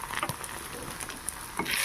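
Egg frying in oil in a pan while being stirred, giving a steady soft sizzle with scattered crackles and pops, close up with no talking.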